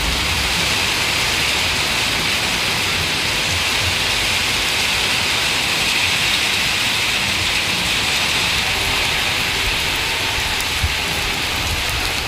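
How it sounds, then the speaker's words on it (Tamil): Heavy rain driven by strong wind falls over the Yelagiri area of Tirupattur district. A dense, steady, loud hiss of downpour continues unbroken throughout, with no voices. "ஏலகிரி உள்ளிட்ட இடங்களில் பலத்த காற்றுடன் மழை பெய்தது"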